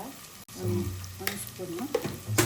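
Mutton pieces frying with ginger garlic paste and sambar powder in a pan, a steady close sizzle with stirring scrapes and clinks, alone without talk.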